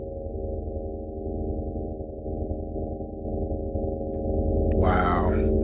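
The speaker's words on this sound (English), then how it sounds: "so you can hear that slide. That is the MPE." An Absynth 6 synthesizer patch played through MPE on a ROLI controller sustains a steady, buzzy tone that slowly swells in loudness, ending with a short bright swept burst near the end, heard alone.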